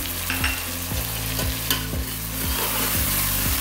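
Garlic and ginger fry in a pan with a dense sizzle, while a spoon scrapes and stirs in a regular rhythm of about two strokes per second, close and alone.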